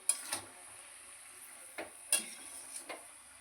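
Mixed vegetables with turmeric, salt, chili powder and a little water being stirred in a pan with spinach, a soft low sizzle broken by a few sharp utensil scrapes and clinks.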